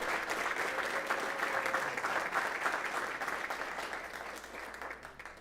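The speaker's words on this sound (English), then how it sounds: "Let's give them a round of applause, all of our students." Sustained audience applause fills a school board meeting hall, a dense even wash of many hands clapping alone at steady loudness before tapering slightly at the end.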